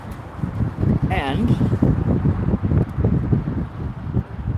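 Wind gusts outdoors at a street protest in Portland, buffeting the microphone with loud, uneven low rumbles while someone talks over it.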